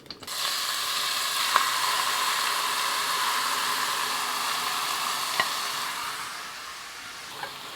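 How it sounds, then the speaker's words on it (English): TVP taco filling is stirred in a pan over medium heat, giving a steady close sizzle with a few sharp scraping clicks of the utensil against the pan. "And you stir it for 5-6 minutes in a medium heat until you see that all the juices have evaporated"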